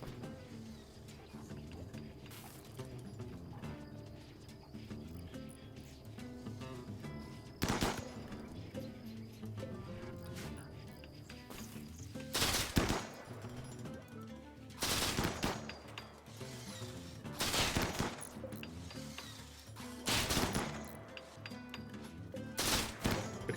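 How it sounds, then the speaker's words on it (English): Suppressed APS pistol fire in RimWorld, a run of muffled shots with a few sharper cracks standing out over a steady, busy game backdrop of ambient noise and distant creature sounds. "That APS sounds so cool. The nice, like, silencer firing sound."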